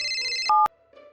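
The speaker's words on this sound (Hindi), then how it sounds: "इतने में उसका फोन बज उठा" A mobile phone rings with a short electronic ringtone, a few bright melodic tones changing pitch in quick succession, moderately loud and heard alone.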